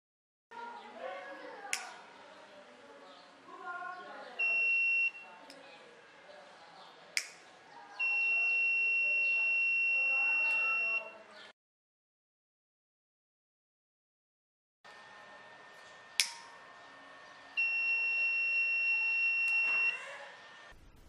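The buzzer of an Arduino infrared temperature sensor alarm using an MLX90614 with LoRa modules sounds in steady multi-second tones, three times with a silent gap, amid handling clicks and taps, with no talk.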